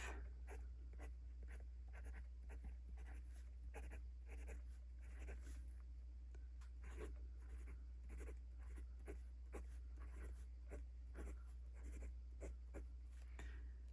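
Kanwrite Heritage fountain pen with a coated broad nib writing on paper: soft, steady scratchy strokes repeating in quick bursts, faint and close, over a constant low background hum, with no talking.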